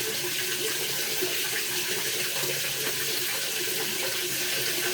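Water from a bathroom shower runs in a steady, continuous hiss that stays loud and close the whole time, with no voices over it.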